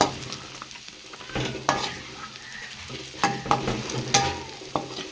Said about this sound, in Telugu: ఇవన్నీ తిప్పేసుకుందాం